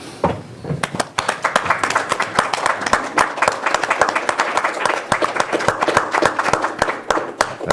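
Applause at a Lake County Board of Supervisors meeting after a proclamation is adopted; sharp, close hand claps from a small group, fairly loud and steady for several seconds after a quiet start.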